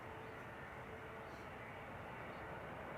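Aircraft departing from the Polderbaan runway at Amsterdam Schiphol, heard from close beside the runway as a steady, broad engine roar that holds at an even level throughout.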